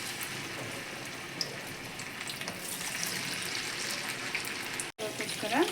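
Chicken kebab pieces deep frying in hot oil, a steady close crackle and bubbling hiss that runs evenly throughout, briefly cutting out near the end before resuming.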